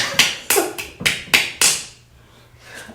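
Sharp fingernail claps, six crisp clicky taps in an uneven rhythm, close and loud, then trailing off into near silence with a faint final tap.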